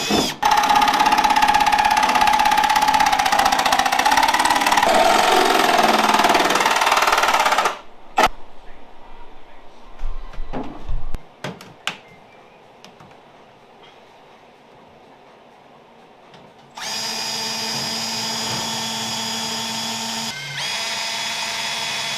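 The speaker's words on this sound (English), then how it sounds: "And now I'm just going to drill out the corners." A power drill bores out the corners of a grab handle opening while fitting carbon doors on a Mk2 Escort Mexico rebuild. It sounds as a loud, sustained whine, drops to quieter clicks and handling, then another steady run starts.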